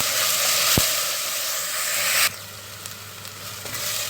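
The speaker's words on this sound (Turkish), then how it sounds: "soğanlarımızı kavuracağız" Onions and potatoes fry in a pan for a hand-rolled potato börek filling, giving a steady close sizzle that drops to a quieter crackle partway through, with a few light stirring scrapes.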